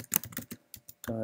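Keys clatter on a computer keyboard as a command is typed into a terminal, a quick run of close, crisp clicks in short bursts, ending in a denser tonal tail.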